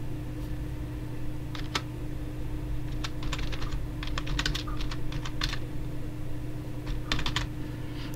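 Keys tapped on a computer keyboard while a playlist name is entered, bursts of quick clicks at close range with short pauses, over a steady low fan hum.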